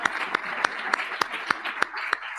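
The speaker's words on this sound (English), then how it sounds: "Let's give you another round of applause." A round of applause at a benefit gala, heard as a rhythmic run of sharp, evenly spaced claps, roughly four per second, over a softer bed of scattered clapping from the room, with no talk.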